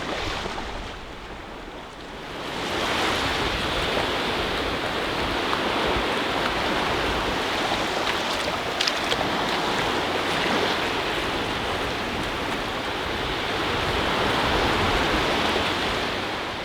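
Steady broadband wash of waves breaking on the beach at Murlough Bay, a loud continuous surf roar that swells in after a quieter opening couple of seconds and holds, with no voices.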